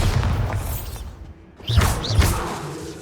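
Bombarda explosion spell cast in the video game Hogwarts Legacy: two loud, close booming blasts with a whooshing rush, following a brief quiet gap.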